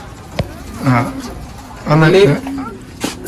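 Pigeons coo inside a loft, giving two close, throaty rolling coos with a sharp click or flap before and after, while someone speaks nearby.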